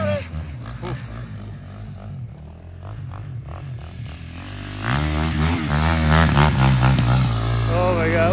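KTM 450 quad engine revving outdoors on a winter ride, a rough motor note that swells louder around the midpoint and holds steady, with people talking over it and a golf cart nearby.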